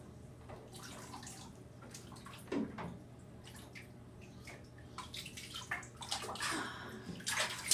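Water sloshes and splashes in a bathtub as young children are bathed, with continuous close splashing and dripping that swells in bursts near the end.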